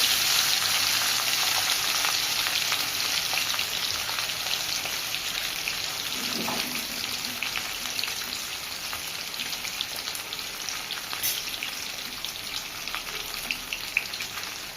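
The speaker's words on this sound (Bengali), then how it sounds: "প্রথমে মাছগুলো তেলে ভেজে নেব উল্টে পাল্টে।" Rui fish frying in hot oil, a continuous dense sizzle and crackle, close and steady throughout with no talking.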